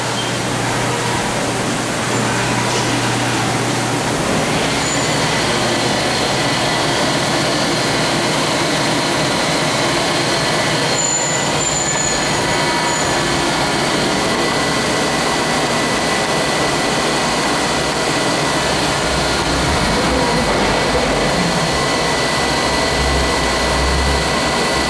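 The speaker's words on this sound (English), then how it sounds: "We're going to run the spindle at about 1500 to 2000 RPM, do some rapid movements, a little X, Y, Z stuff" Haas EC1600 horizontal CNC milling machine running its spindle at roughly 1500 to 2000 RPM with rapid X, Y, Z moves, giving a loud steady whirring roar throughout with shifting tones as the axes travel.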